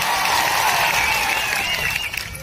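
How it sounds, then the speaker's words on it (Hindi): An audience at an outdoor Adivasi Day rally breaks into sustained, dense applause, a loud wash of clapping with crowd noise that eases slightly toward the end. "एक बार जोरदार आपके लिए तालियां बजा दी जाए"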